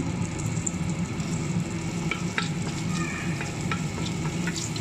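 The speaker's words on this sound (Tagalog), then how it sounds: "sa ating kaldero ay naglagay tayo ng butter. Ilagay na natin ang ating bawang." Garlic fries in butter in a cooking pot for spaghetti, giving a loud, close, continuous sizzle with occasional stirring scrapes and crackles.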